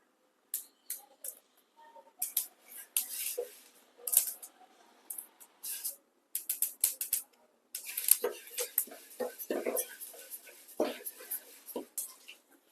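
Sesame seeds roasting in a pan give sharp crackles and pops in dense, irregular bursts, with scraping stirring sounds mixed in and brief pauses between the bursts.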